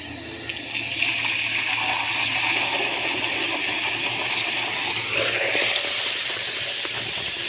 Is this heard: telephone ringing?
no